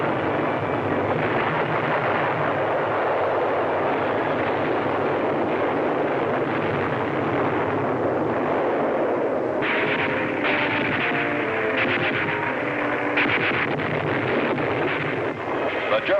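WWII artillery fire and explosions along the front near Saint-Lô form a dense, continuous rumble of distant blasts, with someone narrating over it for much of the time.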